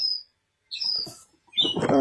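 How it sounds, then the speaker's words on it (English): Birds on a house chimney give thin, high, piercing chirps in short bursts separated by silence, with a busier, more tonal flutter of calls at the end, fairly near and loud. "is that the birds on my chimney?"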